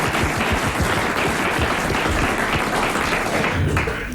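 A studio audience applauding on a French television talk show: dense, steady clapping at close range that holds evenly throughout.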